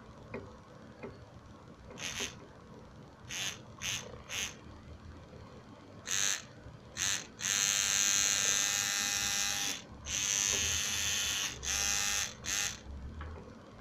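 A small Aliexpress tattoo machine buzzes on 6 volts in short bursts, then in longer steady runs, with a bright electric whine and brief pauses between.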